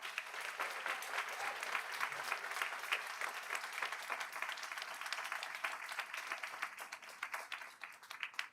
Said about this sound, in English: Let's give another round of applause for Athena.